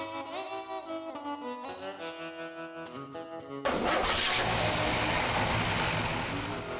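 A classic car's 371 cubic inch Rocket V8 cranks after a stretch of music, then catches and roars loudly, settling into a strong, steady idle close by.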